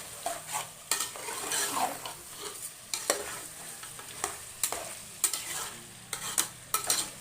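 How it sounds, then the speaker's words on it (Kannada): Steady sizzling of mutton frying in oil, with repeated scraping strokes of a spatula stirring through the pan, close up and without any voices. "ನೋಡಿ ನಾವು ಇಲ್ಲಿ ಎಷ್ಟು ಎಣ್ಣೆಯಲ್ಲಿ ಫ್ರೈ ಮಾಡ್ತೀವೋ ಅಷ್ಟು ರುಚಿ ಕೊಡುತ್ತೆ ಮಟನ್ನು."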